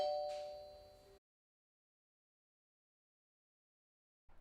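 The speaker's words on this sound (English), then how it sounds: "notifications when someone rings the doorbell" An August Doorbell Cam Pro smart doorbell chime rings briefly and fades out, followed by silence and then a faint burst of sound at the very end.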